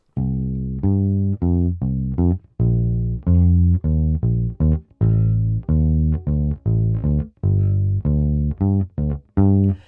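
A plucked bass plays a steady jazz walking line of short, detached root and fifth notes in a lilting three-beat pattern, alone and fairly loud.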